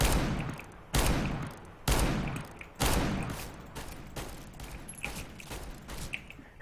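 R8 revolver shots ring out in a CSGO match, four loud sharp blasts spaced about a second apart, each trailing off in a reverberant decay, followed by fainter clicks and impacts.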